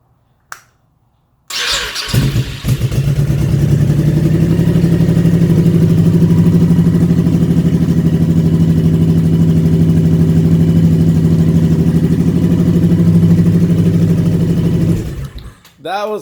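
A Honda Shadow Sabre motorcycle engine starts after a quiet moment, then holds a steady, loud, low idle rumble for many seconds before cutting off near the end.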